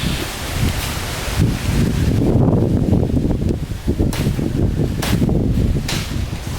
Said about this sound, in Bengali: ওরে বাতাস